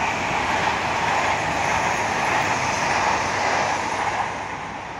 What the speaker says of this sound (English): Pendolino, the Italian train.